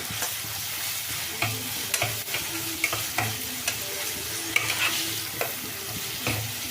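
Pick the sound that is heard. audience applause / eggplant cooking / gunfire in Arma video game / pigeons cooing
eggplant cooking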